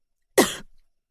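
A woman gives a single short, harsh cough, close and clear, trailing off quickly into silence.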